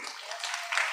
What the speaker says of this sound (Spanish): Un aplauso para sus compañeros.